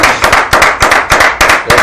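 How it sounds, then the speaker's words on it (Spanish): Studio audience applauding on a news program, loud rhythmic clapping in steady bursts, close and alone without voices. "Con el aplauso de todos ustedes desde sus casas y aquí"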